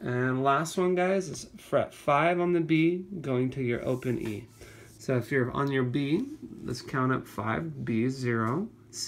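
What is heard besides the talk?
No distinct noise like a dog, phone or traffic.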